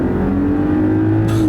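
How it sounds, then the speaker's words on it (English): A 2020 Mercedes-Benz GLE 450 SUV with electric boost accelerates hard in sport mode on a back road, its turbo engine giving a steady, loud, droning hum heard from inside the cabin without talking. "I could really feel that electric boost right off the line, and then that engine and the turbo kick in"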